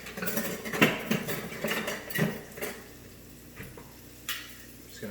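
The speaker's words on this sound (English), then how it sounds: "I'm going to grab some tongs." Metal kitchen tongs clatter and clink against cookware beside a hot pan for flank steak, several sharp taps and rattles early on, then sparser clicks amid quiet room noise.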